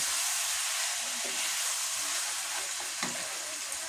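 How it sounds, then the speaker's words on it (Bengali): Meat being stirred and fried in a pan for a home-cooked curry gives a steady, close sizzling hiss, with a few faint scraping stirs breaking through the constant frying noise. "মাংসটা ভালোভাবে কষিয়ে নিতেছি"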